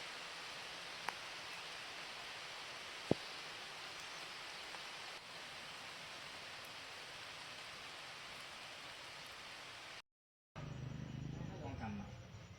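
Heavy rain pours down outdoors in a steady, dense hiss with a couple of sharp drip ticks, cut briefly by a gap before louder, closer noise and a voice at the end.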